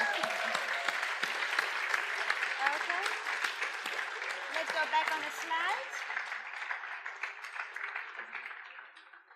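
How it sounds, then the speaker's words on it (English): Audience at an Amway Academy product presentation applauding a guest named John, a dense sustained clapping that gradually thins and fades, with a voice speaking over it. "Round of applause for John."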